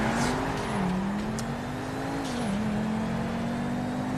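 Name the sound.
cars speeding in GTA 5 video game, Buffalo STX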